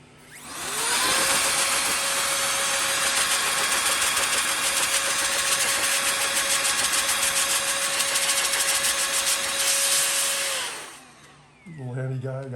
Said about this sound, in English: Take my little air compressor guy.